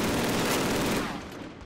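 A short burst of rapid machine gun fire in Call of Duty, loud rattling shots for about a second before tailing off into a fading echo.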